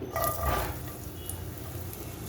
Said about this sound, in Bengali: একটি প্যানে তেল গরম করে নিয়েছি দিয়ে দিচ্ছি রসুন